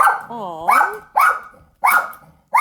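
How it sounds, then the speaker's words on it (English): A dog barks four times in quick succession, each bark loud and close, while a person keeps speaking at the same time. "Sorry about the dog."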